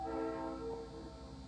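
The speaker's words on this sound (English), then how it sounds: "You can actually hear the subway." A subway train rumbles by somewhere unseen, a low steady drone with faint tonal hum, distant and quiet under room noise, no voices.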